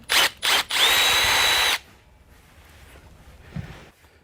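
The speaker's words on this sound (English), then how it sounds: "it's worthwhile just running your drill through just to make sure that they line up nicely" A power drill whirs loudly in two brief spurts, then one longer steady run with a high whine, drilling through bolt holes on a frame, before stopping into quiet room noise.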